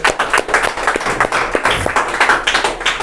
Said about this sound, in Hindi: तो क्यों ना हम ज़ोरदार तालियों से उनका स्वागत करें।